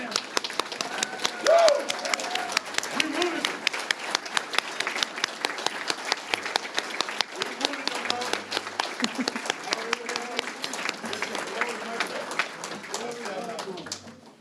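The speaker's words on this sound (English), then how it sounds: "Can we please have a round of applause?" An audience at an awards luncheon breaks into sustained applause, many hands clapping close and loud for over ten seconds while someone talks and cheers over it.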